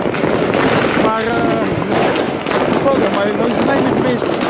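New Year's fireworks banging in dense, continuous volleys of loud crackles and pops, with overlapping blasts filling the whole stretch and hardly any gap between them.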